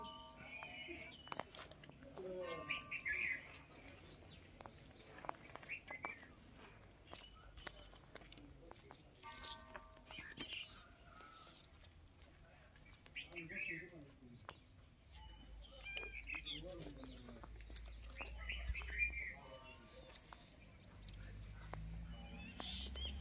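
Small birds chirp and twitter on and off in the open air at the Bhuleshwar temple near Pune. Footsteps, rustling and quiet talking mix in, and a low rumble rises toward the end.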